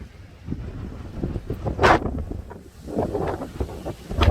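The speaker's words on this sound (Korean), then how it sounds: "나 이게 진짜 이렇게 바람 맞아본 적이 없다." Strong gale-force wind blowing on Ulleungdo island, loud buffeting gusts battering the microphone with deep rumbling roars that surge and ease, and no one talking.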